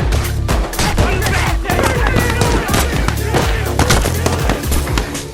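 A loud, dense volley of gunfire in a film shootout, many rapid overlapping shots fired at close range in a continuous barrage lasting several seconds.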